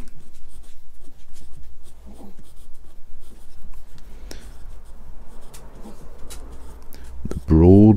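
A Lamy Al-star Gold 2020 Special Edition fountain pen with a broad nib scratches steadily across paper in close, continuous strokes, with a few sharper taps and a louder burst of handling noise at the very end.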